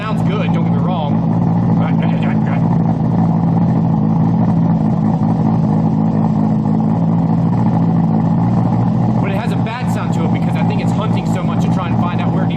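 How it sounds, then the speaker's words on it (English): A Toyota Supra with a faulty sensor idles with a steady, loud, low drone and a slightly uneven lope, while people talk nearby over the engine throughout. "So the car has definitely a different little lope to it now."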